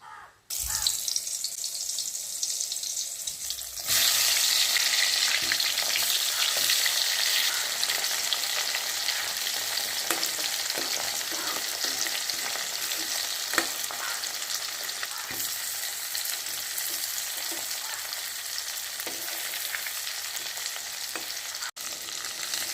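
Eggplant pieces dropped into hot oil for a brinjal kuzhambu set off a loud, steady sizzle and crackle that starts suddenly after a few seconds and keeps going evenly up close.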